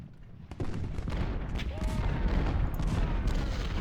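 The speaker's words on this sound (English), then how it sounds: "And Foster has unleashed his first volley." A massed infantry rifle volley in the Civil War strategy game Ultimate General: Civil War, heard as a loud continuous crackle of gunfire that rises sharply after a brief quieter lead-in and then rolls on steadily.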